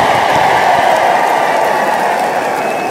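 Sustained, dense applause from a large standing audience at a political gathering in Chaundi, a steady loud wash of claps with no individual beats standing out.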